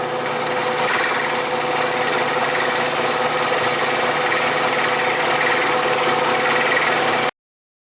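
Milling cutter taking a light cut across the top of a Bridgeport vise, a steady loud grinding chatter with a high metallic whine that runs unbroken, then stops abruptly.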